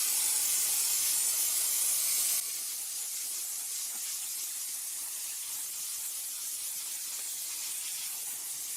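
Loud continuous steam hiss from an all-purpose steam cleaner blasting deposits off a grill, steady and close, with a slightly stronger burst at the start before it settles into an even spray.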